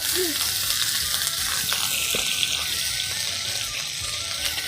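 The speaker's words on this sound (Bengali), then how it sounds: "নতুন আলু তো তেলে ভালো করে ভাজতে হবে" New potatoes fry in hot oil with a steady sizzle, broken by light scraping and stirring clatter and a few faint knocks, fairly close and without speech.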